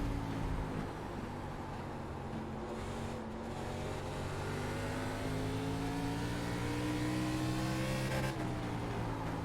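ARCA Menards Series race car engine in the iRacing sim at Five Flags, droning loudly and steadily at high revs with rising and falling pitch, alone without talk.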